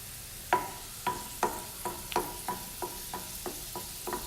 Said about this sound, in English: In this pan, I've heated the pan, added olive oil about 1 tablespoon, and then chopped garlic and chilies